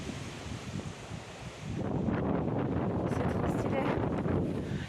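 Strong wind buffets and roars against the microphone on an outdoor hike, growing louder after the first couple of seconds, with a voice faintly audible beneath.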